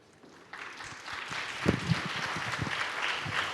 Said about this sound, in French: Ah, vous vouliez applaudir Monsieur le Préfet